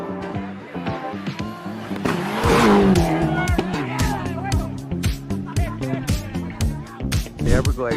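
A rally car races past with its engine surging and tires squealing, followed by a rapid series of scattered clattering impacts, and voices are heard during the pass.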